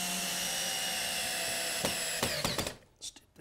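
A power drill drives 3-inch screws into a 2x4 wall frame, a loud steady whine that ends with a few sharp clicks and stops near the end.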